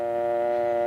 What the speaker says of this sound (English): Then remove the receiver and listen for the dial tone.